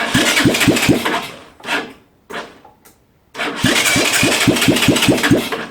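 Honda ATC engine being cranked over by a rebuilt starter motor: loud, close, rapid rhythmic chugging in two long bursts separated by a short whirring spin-up and a pause, without catching to a steady idle.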